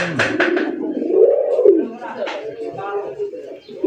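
A Raj Golla fancy pigeon, a spirited male of brass coloring, coos loudly and close in repeated rising-and-falling calls, with someone talking over and between the coos.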